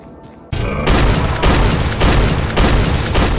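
Shotgun blasts in the Vomitoreum video game fire in rapid succession, a loud and dense run of booming shots that starts after a brief quiet moment and continues without a break.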